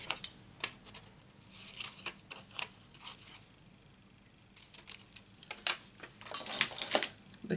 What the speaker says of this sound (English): need a bit a post-it note and cut the sticky end off